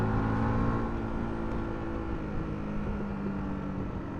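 A Yamaha R125 125cc motorbike engine hums and revs steadily, with a faint rough crackle running through the exhaust note, close and continuous.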